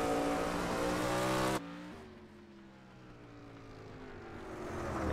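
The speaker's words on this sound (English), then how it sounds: "These cars, 410 cubic inches of power under the hoods." A 410 cubic inch sprint race car engine roars loudly in a racing video game, its steady high drone abruptly dropping in pitch as the car passes, then building again toward the end.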